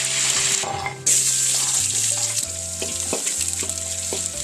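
Yellowfin tuna fries in a pan with a loud, continuous close sizzle and occasional crackles, no voices present.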